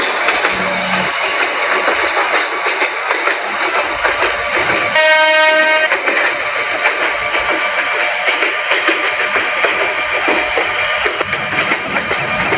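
The Meghna Express on the Chattogram to Sitakunda run in Train Simulator Bangladesh makes a loud, steady rumble and clatter, with a sustained horn blast about midway through.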